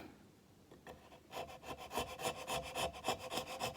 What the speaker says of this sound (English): I've got a nice little sharp chisel here.